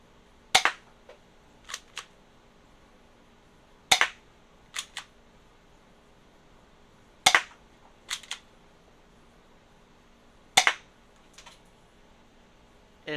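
Hikewintoy gel blaster firing gel rounds at a target, heard as four sharp snapping shots spaced a few seconds apart, each followed by one or two fainter ticks of rounds striking, in a quiet setting.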